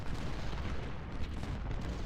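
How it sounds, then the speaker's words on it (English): Artillery and musket fire from a Civil War battle in the Ultimate General Civil War video game at Gaines's Mill, a dense, continuous rumble of booms and crackling gunfire with no clear gaps, fairly loud throughout. "Oh, look at that. The explosions."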